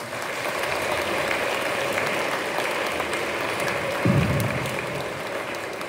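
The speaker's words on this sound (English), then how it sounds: "let's give them a round of applause as well." A crowd applauds at a 2024 Holbrook 4th-grade celebration, a steady, dense wash of clapping that holds evenly for about six seconds without any speech over it.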